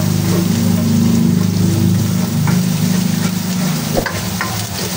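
Garlic sizzles and fries steadily in a hot pan of oil with ginger, a dense continuous crackle with occasional stirring clinks, close and loud, no talking.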